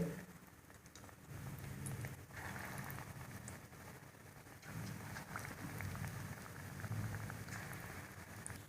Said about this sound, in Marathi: आता हे राहिलेले भजे मी सगळे तळून घेते